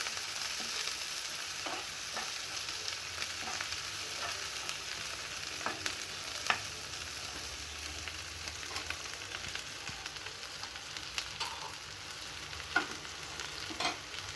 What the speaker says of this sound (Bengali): কাঁচামরিচ দিয়ে দেব। দিয়ে আমি এটাকে একটু হালকা একটু নেড়ে তারপর আমি দিয়ে দেব লাউয়ের খোসাটা।